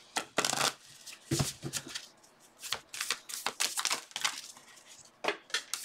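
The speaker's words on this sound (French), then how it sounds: "Les cartes ont chuté loin." A deck of tarot cards is shuffled and spilled, producing close, crisp riffling bursts and papery slaps with scattered clicks as cards drop and are gathered, fairly quiet and irregular, with no talking.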